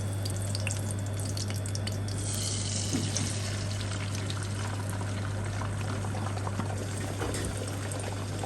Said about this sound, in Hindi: सबसे पहले हम कढ़ाई में थोड़ा सा ऑयल गरम कर रहे हैं, इसमें हम अंडा डालेंगे। ये 4 अंडे हैं फेंटे हुए।